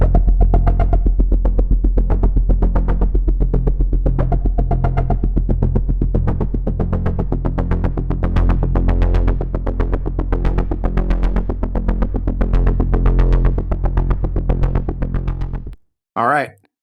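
A Serum synth pulse bass patch for modern trailer music throbs as a dense, rapid, heavy pulsing bass line that runs loud and steady for most of the clip, then stops abruptly, followed by a short final burst.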